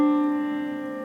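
A major second played on an online keyboard rings out as two clear, steady tones that sustain and slowly fade, heard alone with no talking.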